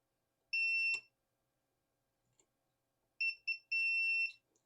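A multimeter set to continuity beeps while probing a new antenna tuner circuit board, giving a clear high-pitched tone, a brief tick, then two short beeps and a longer steady one, all close and loud.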